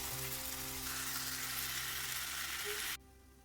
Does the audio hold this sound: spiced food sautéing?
yes